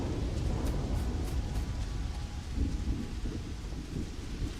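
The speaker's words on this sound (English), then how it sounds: "it's supposed to be tropical rainforest, so I'm not really surprised that it's, you know, raining and all." Heavy rain pours steadily in a tropical rainforest on an alien planet in the game Starfield, with low rolling thunder underneath throughout and no talking.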